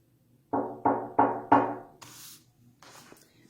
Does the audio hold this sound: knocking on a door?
yes